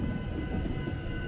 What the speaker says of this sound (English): this is pretty much one of the last times you'll see the train going through this crossing